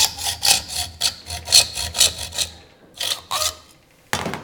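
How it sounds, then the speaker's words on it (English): A hand saw cuts through an acrylic sheet clamped in a vise, with rapid back-and-forth rasping strokes in a steady rhythm, then a pause and a few final strokes, close and fairly loud. "I'm going to very simply cut back and forward until I get to my masking tape line"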